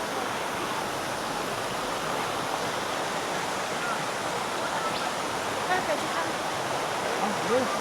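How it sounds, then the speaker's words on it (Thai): Khao Soi Dao waterfall pours in a steady, loud, broadband roar of rushing water that fills the whole stretch without pause. "แล้วตอนนี้เราก็อยู่ในน้ำตกแล้วนะคะ"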